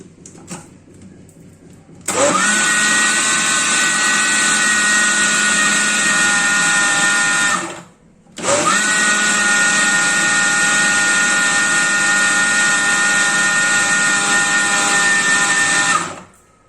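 An electric mixer whirs steadily through chocolate cake batter with oil added, running loud and continuous for several seconds, stopping briefly, then starting again for another long even stretch.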